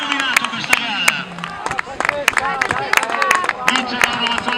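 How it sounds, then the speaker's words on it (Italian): Spectators clap and cheer as Laura Mazzoleni Ferracini reaches the finish of a girls' cross-country race, a dense burst of claps and crowd babble with excited voices mixed in, loud and close. "applausi per lei"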